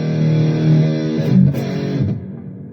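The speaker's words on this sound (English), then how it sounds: "I'm using the whole reverb." Electric guitar through a Donner Arena2000 multi-effects pedal set to reverb, with a sustained chord ringing thickly, a second strum, and the wash of reverb decaying away at the end.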